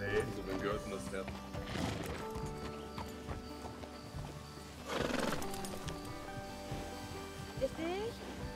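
Horses stand around in a Wild West setting, neighing loudly twice and shifting with irregular clip-clopping hooves, while people talk nearby.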